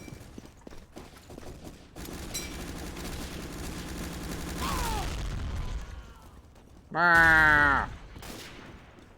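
Bots in a Source engine first-person shooter fire weapons in rapid bursts, with sustained automatic gunfire followed by a loud close-range volley; a player briefly exclaims amid the shooting.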